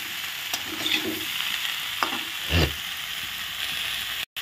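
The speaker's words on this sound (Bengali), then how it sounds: "বটবটিগুলো দিয়ে নেড়ে নেব" Flat beans (botboti) stirred in a frying pan of spicy masala, a soft steady sizzle with scraping stirs that swell briefly near the middle, close by and with no talk.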